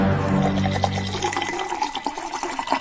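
Liquor pours from a bottle into a glass to make a drink, a short continuous splashing gurgle that is close and fairly loud, with no voices.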